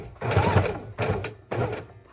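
A sewing machine stitches a ribbon-trimmed miniature junk journal in short bursts, three quick runs of close, buzzy rattling separated by brief pauses.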